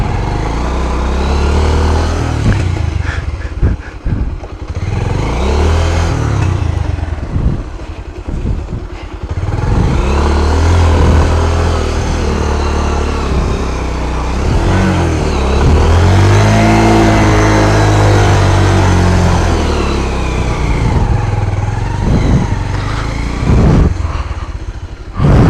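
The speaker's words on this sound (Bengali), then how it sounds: "একটু বাইক নিয়ে বেরিলাম, ভাবলাম যে একটু অফ রোড ড্রাইভ করে দেখি কী অবস্থা।" A motorcycle ridden off road on rough local terms in rain, its engine revving and surging loudly and close throughout, with repeated throttle rises and drops and no voices.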